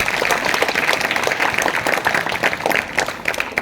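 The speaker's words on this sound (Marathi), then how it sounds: "एकदा त्या सैनिकांसाठी टाळ्या वाजवा" A crowd applauds steadily throughout, dense clapping at a fairly loud level with no pauses, at a children's science exhibition event in Akole, India.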